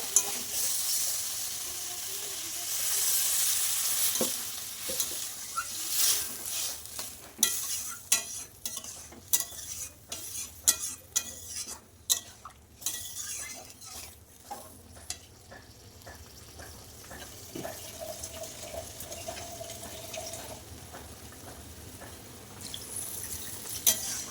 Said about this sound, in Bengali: কষানো হয়ে গেছে এবার আমি জল দিয়ে দেবো